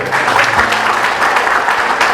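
An audience at a university alumni reunion claps loudly and continuously, a dense wash of many hands close by, with a faint hum underneath.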